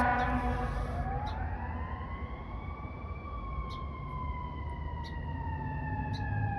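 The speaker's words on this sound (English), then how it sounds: "I'm trying to let the siren pass by so I can continue the reading." A fire truck siren wails at a distance, its tone sliding slowly downward as it passes, over a steady low traffic rumble.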